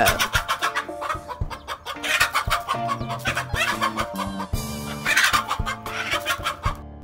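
A mother hen clucks repeatedly in short, sharp bursts, close and loud, with a few more agitated squawks mixed in among the clucking, while confronting a snake.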